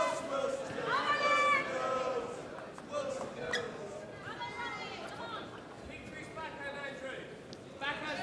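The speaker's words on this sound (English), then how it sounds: "So lots of urging from the crowd." Spectators at the 2020 World Championship of Ping Pong final raise a steady murmur and cheers, urging the players on, loudest in the first seconds and then settling into a continuous background hum mixed with commentary voices.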